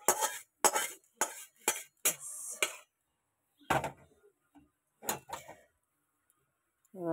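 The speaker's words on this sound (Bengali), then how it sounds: "ডালটা এবার ধুয়ে নেবো ভালো করে।" Lentils are washed in a pot with several short, separate bursts of swishing water and grains rattling against metal, then a few quieter splashes and clinks after a pause, close and fairly soft.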